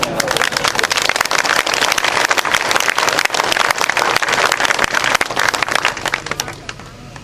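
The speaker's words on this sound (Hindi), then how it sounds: "तालियों की गड़गड़ाहट" An audience at a Rawat community gathering applauds, a loud, continuous roar of many hands clapping that holds steady and then begins to fade near the end.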